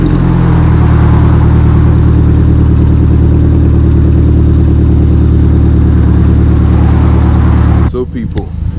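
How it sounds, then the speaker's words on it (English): A BMW 1 Series E88 with a custom quad exhaust and open manifold idles loudly and steadily close by, a deep even drone that cuts off near the end into clatter. "there's the custom exhaust system as it is now. Manifold's open."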